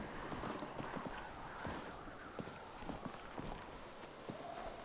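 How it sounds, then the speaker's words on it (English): Horse hooves clip-clop at an easy walking pace in A Plague Tale: Requiem, a faint, steady rhythm of soft thuds set in a quiet sanctuary ambience. "That's a lovely horse."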